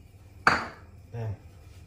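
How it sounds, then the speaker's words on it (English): Quick metallic scrape of a whisk against a hot pan as nutmeg is stirred into about 30 grams of melted butter: one sharp clatter followed by a shorter, softer stroke, close and fairly quiet. "we whisk"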